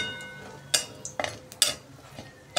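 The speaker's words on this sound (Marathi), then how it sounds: "याच्यामध्ये थोडेसे काजूचे तुकडे पण आपण तळून घेणार आहे।" Cashew pieces fry in oil in a pan for paneer biryani, with a low sizzle under a few sharp clinks of a spatula stirring against the metal.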